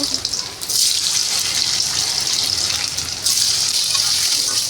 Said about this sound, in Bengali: আবার আলুগুলোকে ভেজে নিব।